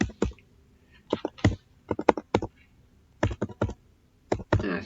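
Keys tapped on a computer keyboard while entering a username and password, irregular clusters of crisp close clicks separated by short pauses.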